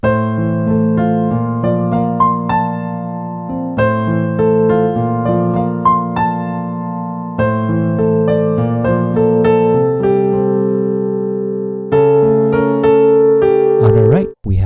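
Solo piano plays the pre-chorus of a song with both hands, steady chords under a melody in a loud, close, continuous run with no talking.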